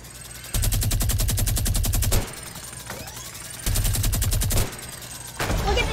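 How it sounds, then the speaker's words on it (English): A video game minigun fires in two long, rapid bursts of about one and a half seconds each, a dense mechanical rattle with a heavy low hum, loud and close, separated by a quieter stretch. "I'm gonna start spamming my minigun."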